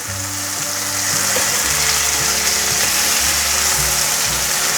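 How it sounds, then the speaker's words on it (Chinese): A vegan burger patty fries in a little olive oil in a pan, giving a steady, close sizzle and crackle that continues throughout without speech. "锅内放入少许橄榄油，放入苏威平生的舒服汉堡排，把它煎至表面焦香"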